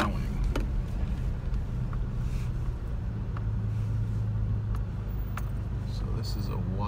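A Washington Park snow plow truck plowing a residential street, its engine a steady low rumble throughout, with faint scraping and passing clatter but no clear speech.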